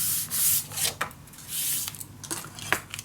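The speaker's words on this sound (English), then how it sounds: "Burnish your papers." Papers for a winter-themed mini album being burnished by hand, giving a few close rubbing and scraping strokes in short bursts with brief pauses between them.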